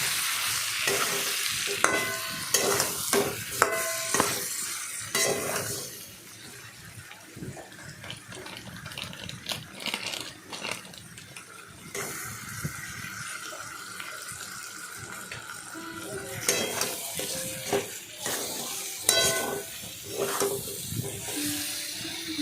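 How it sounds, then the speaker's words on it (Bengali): Coriander and cumin powder being stirred into a katla fish head curry, a long stretch of wet sizzling with repeated spatula scrapes and clinks, some running water mixed in, close and without talk. "ধনের গুঁড়ো দিলাম জিরের গুঁড়ো দিলাম দিয়ে ভালো করে নাড়াচাড়া করলাম"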